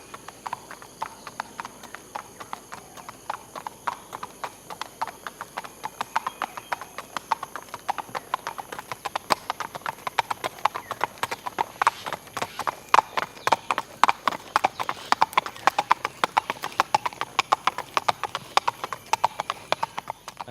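Two horses walk over sand, gravel and concrete, their eight hooves clip-clopping in overlapping rhythms that drift in and out of sync, steady and fairly close throughout.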